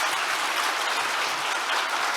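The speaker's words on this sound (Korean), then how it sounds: "다시 한번 박수 보내주시고요" An audience applauds at the 2023 World Korean Language Festival closing ceremony, a dense, continuous wash of clapping filling the hall without a break.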